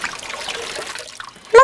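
A cartoon bird splashes into a river, first a light trickling of water, then a short sharp splash right at the end.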